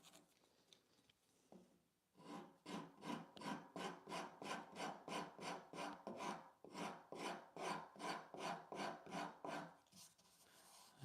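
A finer rasp works a wooden furniture leg in quick, rhythmic back-and-forth strokes, roughly twenty close, crisp scrapes following a few quieter tentative passes at the start.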